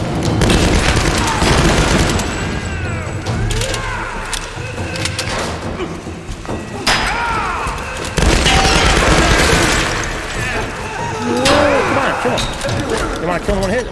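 Gunfire crackles in the Tomb Raider video game, rapid bursts of shots and thuds mixed with explosions and game effects, loud and close, with a player talking over the action.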